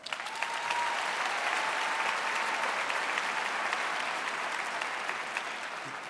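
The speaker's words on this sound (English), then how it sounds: "Can you give yourselves a round of applause?" Staff at a school district convocation giving themselves a round of applause, a sustained, steady roar of many hands clapping in a large hall that holds for several seconds before easing slightly.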